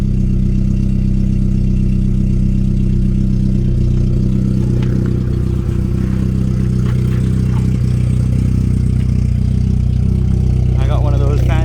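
An MK2 Jetta with an aftermarket exhaust and a rough idle problem runs at a steady, droning idle close by for the whole stretch, with a voice coming in briefly near the end.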